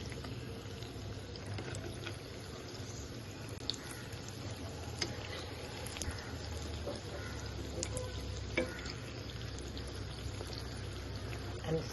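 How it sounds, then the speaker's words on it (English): Cheese cutlets frying in oil, a steady low crackle and hiss running throughout with occasional small pops, fairly quiet and continuous with no one speaking. "And fry till it is brown on both the sides."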